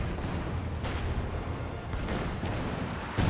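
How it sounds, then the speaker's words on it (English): Light artillery barrage in Company of Heroes 2, a dense, steady rumble of distant shell impacts and gunfire with a few sharper bursts standing out, continuous and fairly loud throughout. "May see a light artillery barrage"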